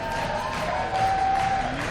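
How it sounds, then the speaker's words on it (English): Tournament crowd at a fighting-game event cheering and applauding steadily throughout, a broad continuous roar of claps and voices at moderate level with a faint tonal line running under it. "Getting the crowd hype, feeling it."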